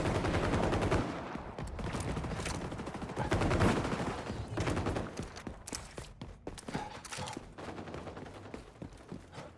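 Rapid, loud sniper rifle gunfire in XDefiant, bursts of shots piling up densely at first, then thinning into scattered cracks toward the end.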